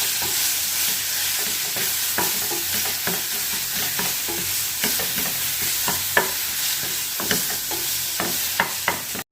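Curry leaf chutney is stirred in a pan after the gas is turned off, with repeated spoon scrapes and clacks over a soft sizzle, close up, with no voices.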